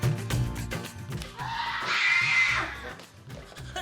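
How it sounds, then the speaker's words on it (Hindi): A person screams loudly in a comedic skit, a sustained shrill cry rising over background music and effects and lasting about a second before fading. "चिल्लाओ मत,"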